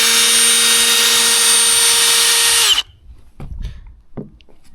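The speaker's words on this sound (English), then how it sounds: "I am gonna have to drill some more countersinks" A power drill drives screws into wood on a wooden obstacle build. The motor whines loudly and continuously for nearly three seconds, then cuts off, leaving a few faint knocks and handling sounds.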